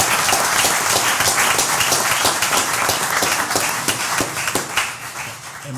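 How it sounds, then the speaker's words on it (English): Warm applause at a city board of aldermen meeting, a room full of steady clapping that continues loud and dense for about six seconds with no voices over it. "Let's give her a warm round of applause."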